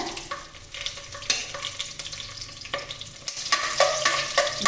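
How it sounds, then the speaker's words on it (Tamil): Green chillies and cashews frying in ghee for ghee rice, with continuous close sizzling and crackling, steady throughout, with a few louder scraping stirs and no talking. "பச்சை மிளகா நல்லா பொறிஞ்சு வருது"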